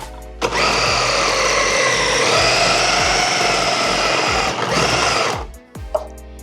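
A Braun MultiQuick 9 food processor grates a block of trappista cheese, a loud steady whirring motor that runs for about five seconds, then winds down and stops with a small clunk.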